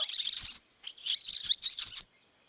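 A cartoon character imitates a loon-like bird call with a voice, producing a few high, chirpy warbling bursts over about two seconds, fairly faint and without other talk.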